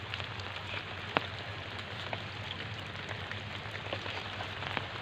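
Steady rain falling on surfaces outdoors during a morning downpour, a continuous even hiss with scattered louder drops, heard alone with no voices.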